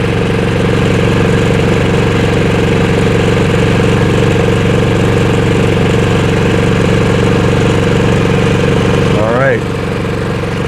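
A replacement EcoFlow dual fuel generator runs with a steady, close engine drone that holds evenly throughout, and a person speaks briefly near the end.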